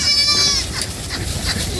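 Goats at a farm feeding on pods from a threshing heap give a clear bleat at the start, followed by rustling and chewing noise and some nearby talk.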